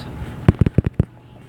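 Cartoonish bomb blasts from the Best Fiends mobile puzzle game, a quick string of about six punchy booms in a tight cluster with one more a moment later, loud against a faint game background.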